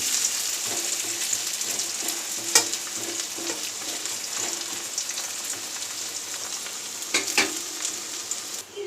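Potatoes and onions sizzle steadily in a hot pan, a constant dense hiss broken by occasional louder crackles and the scrape of stirring, close up with no talking.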